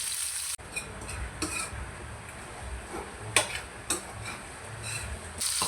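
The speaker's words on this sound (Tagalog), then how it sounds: "Ngayon, igigisa naman natin." Marinated pork steak sautéing in a pan, a soft continuous sizzle with scattered stirring clinks and scrapes, close and without talk.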